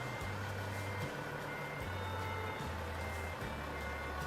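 An American Truck Simulator truck parks a trailer as its reversing alarm beeps in a slow, even rhythm, roughly five long tones over a steady engine hum, with no voices.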